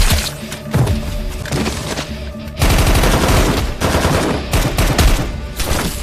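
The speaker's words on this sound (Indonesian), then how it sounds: "Adu tembakan pun terjadi yang mana itu sangat menegangkan dan mendebarkan" A gunfight in a war film scene between Russian and Ukrainian soldiers brings loud rapid machine-gun bursts and single gunshots, firing dense and continuous with short pauses, with impacts that crack like splintering wood.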